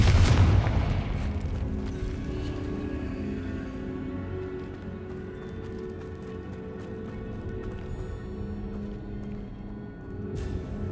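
A Confringo fire spell explodes in the video game Hogwarts Legacy, opening with a loud, deep blast that rolls into a long rumbling decay of crackling debris, with a sharper hit near the end.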